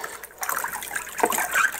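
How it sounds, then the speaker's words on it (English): Warm water sloshes and trickles as an otter hide is dunked and moved in a brain tanning solution, with soft, irregular splashes close by. "Let the warm water mix up the brains and warm them up, and I'm just going to dunk the whole hide in there."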